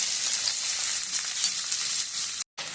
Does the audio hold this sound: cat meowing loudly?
no